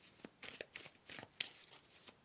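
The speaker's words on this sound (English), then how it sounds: "Let's pull some more cards." Tarot cards being shuffled by hand in several brief, crisp riffling bursts, close and fairly quiet, with no talking.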